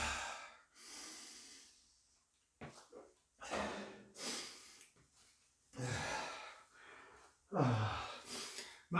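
After an exercise circuit, one person breathes heavily to recover, with a series of loud, ragged inhales and exhales, some sighing or gasping, separated by short pauses.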